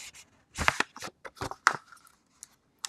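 A birthday card sliding into a paper envelope, with brief close scrapes, rustles and crinkles coming in irregular bursts, then quiet pauses and a final faint shuffle.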